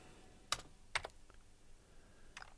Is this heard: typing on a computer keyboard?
yes